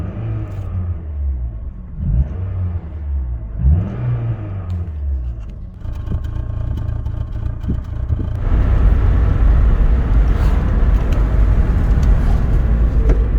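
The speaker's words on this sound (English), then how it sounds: "That chugging is no better." Rover K-series car engine running rough with an uneven chugging idle, a loud close rumble that rises into a heavier, steadier roar partway through, with no speech.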